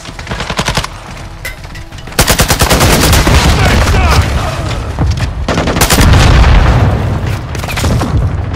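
Loud, close automatic gunfire rattles in rapid bursts during a Call of Duty: Modern Warfare II team deathmatch, with dense sustained volleys and heavy booms running almost without pause.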